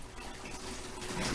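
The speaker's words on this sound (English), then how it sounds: "Now we're going to take this and pour it inside this jug." Steady rushing splash of liquid pouring continuously, a brief smooth gush with no voices.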